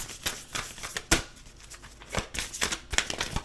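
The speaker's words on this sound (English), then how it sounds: "I'm just going to shuffle through my Oracle deck" An oracle card deck is shuffled up close, with crisp, repeated bursts of cards slapping and sliding together in an uneven rhythm throughout.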